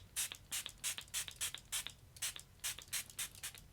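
A handheld spray bottle mists a Samsung Galaxy S21 Ultra fitted with a screen protector, giving a quick run of about a dozen soft, crisp trigger spritzes, close but fairly quiet.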